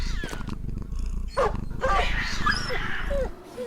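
Cat growling in the video game Battle Brothers, snarling and yowling bursts over a low droning game background, with a voice talking underneath.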